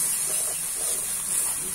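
Water added to hot spiced jackfruit masala in a pan hisses in a steady, close, continuous sizzle for the whole moment, with no talking.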